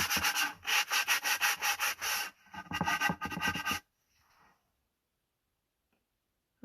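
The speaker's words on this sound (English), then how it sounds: "I'm extra sanding." Wood being sanded by hand for a DIY art caddy: about a dozen rhythmic, loud rubbing strokes in two bursts with a short pause between, then silence.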